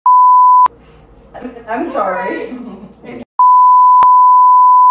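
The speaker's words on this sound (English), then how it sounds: "I want a beep." A loud steady sine-tone beep sounds, cuts out for a short spoken phrase, then returns, with two sharp clicks breaking the tone.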